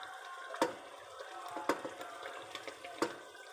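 Water is poured into masala frying in a pan for potato bhurta with fenugreek, making a soft sizzle and bubbling, with a few sharp clinks of a utensil against the pan.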